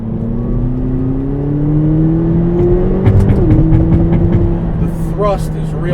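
McLaren 570GT with a small-displacement V8 pulls hard through sequential-style gear shifts, its engine note climbing steadily, dipping at a quick upshift and climbing again, loud and close throughout.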